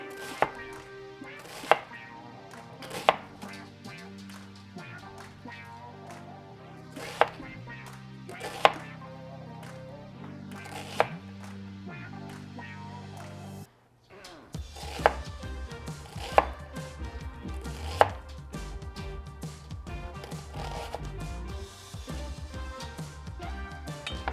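Onions being sliced thinly with a knife on a cutting board, with sharp, regular chopping taps in short bursts and close knife strokes.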